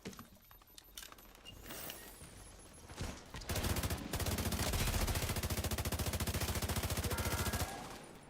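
Rapid automatic gunfire with shock ammo in The Division 2 video game, scattered shots at first, then a long, dense, evenly paced burst of fire that holds for several seconds before stopping.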